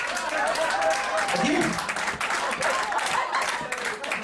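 Comedy-club audience applauding a stand-up comedian, clapping bursts mixed with crowd noise beneath someone talking loudly throughout.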